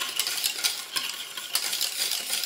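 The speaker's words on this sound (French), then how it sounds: "Donc on remue sur la casserole." Thick pastry cream being stirred in a saucepan, a spoon or whisk scraping the bottom and corners in a steady, continuous rhythm, close and fairly loud with a soft bubbling sizzle underneath.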